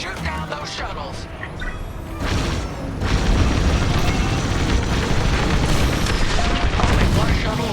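Heavy booming explosions of enemy shuttles destroyed in the Star Wars: Squadrons space combat game, rumbling loud and continuous over dense engine roar and battle effects.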